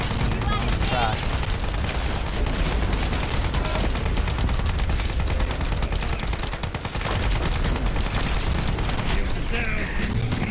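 Dense, continuous gunfire and booming blasts from the shooter game The First Descendant, loud and sustained throughout, with a voice talking over the din.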